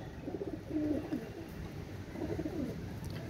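Pigeons coo softly in a loft, two low burbling calls a second or so apart over quiet background hiss, fairly faint and close.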